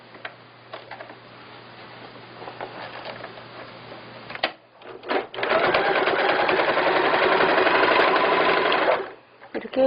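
Sewing machine stitching elastic onto a skirt waistband: a lighter run first, a brief stop with a few clicks, then a loud, close, sustained burst of rapid stitching before it halts.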